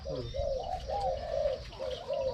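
A dove cooing in repeated soft, hollow notes, several coos in a row, close by over faint background noise.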